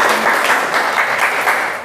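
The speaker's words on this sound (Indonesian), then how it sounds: "Kita tepuk tangan untuk kelompok berapa?" A school class applauds a student group after their presentation, steady dense clapping from many hands filling the room throughout, fairly loud and close, with no talk over it.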